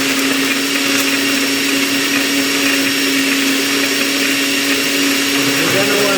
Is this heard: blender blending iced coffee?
yes